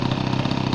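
A glow-fuel engine in an Ace RC Bingo model airplane runs steadily at a constant pitch, loud and continuous with a buzzing, even drone and no talk over it.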